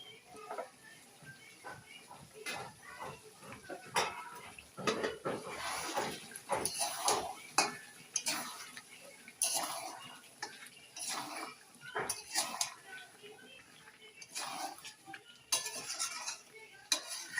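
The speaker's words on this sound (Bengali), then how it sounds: "এখন আমি এর মধ্যে আলু আর পেঁপেটা দিয়ে দিব" Potatoes and papaya go into a pot of thin country-chicken curry, with a spoon clattering and scraping against the metal pot in irregular bursts of clinks and knocks throughout.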